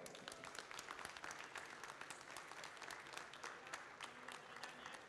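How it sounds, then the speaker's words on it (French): A crowd at a ribbon ceremony applauds the laureates, with sustained clapping from many people and individual sharp claps standing out. The applause is fairly distant and continuous throughout. "on les applaudit bien fort"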